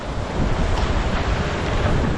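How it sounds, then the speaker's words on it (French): A squall hits a racing sailboat at sea during a transatlantic race, with strong wind roaring across the microphone and waves rushing continuously, loud and steady throughout. "Regardez, là c'est un grain."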